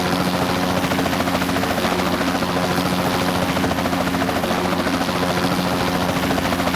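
Helicopter in the video game Kaskade: a loud, continuous rotor drone with a steady rapid chop, holding evenly from start to finish with no talking.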